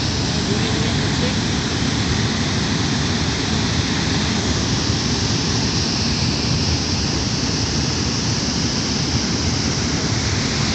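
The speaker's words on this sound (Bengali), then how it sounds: "এই হলো সবচেয়ে সুন্দর সেই ঝর্ণা" Amiyakhum waterfall in Bandarban, Bangladesh, in the dry season, roaring as a dense, loud, unbroken wash of water that fills the whole clip.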